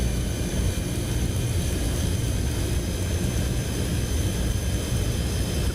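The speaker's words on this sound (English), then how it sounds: "The massive Rolls-Royce Dart turbofan. Sorry, turboprop." Rolls-Royce Dart turboprop engine starting on a YS-11 airliner in a flight simulator game, a steady loud broadband roar with a high whine layered on top, continuous and unbroken throughout.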